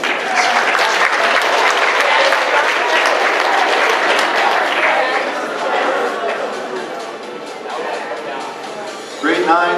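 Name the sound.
audience applause for Mr. Johnson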